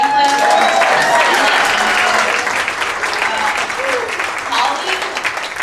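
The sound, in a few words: audience applause for Franklin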